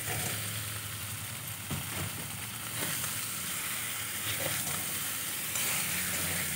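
Eggs frying in a spiced potato masala give a steady, close sizzle and hiss, with occasional scrapes of stirring in the pan.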